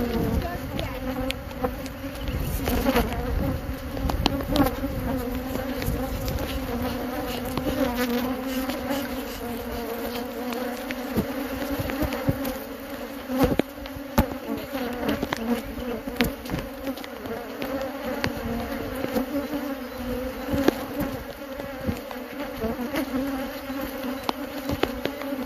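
Honeybees from a flighty, open hive swarm in a steady, dense buzz that carries on without a break, with a few individual bees droning close past now and then.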